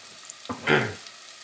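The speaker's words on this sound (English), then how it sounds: "So I'm just going to throw my mushrooms into the pot." Mushrooms dropped into a hot pot on a home stove give a brief, close burst of sizzling and spattering that quickly fades back to quiet.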